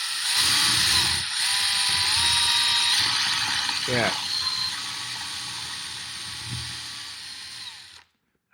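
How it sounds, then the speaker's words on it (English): An electric drill bores into a cork held in place, with a brief rising whine and grinding burst midway through a steady background hum, some clicking, and a short spoken word. "now I'm using the drill, put it in the middle, and I'm start drilling"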